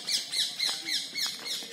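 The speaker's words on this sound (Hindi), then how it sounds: "देखें आप पक्षियों की आवाज" Birds call in a forest of teak and palash trees: bright repeated chirps and short whistled notes, fairly close and clear, with a faint insect hum behind them and no talk.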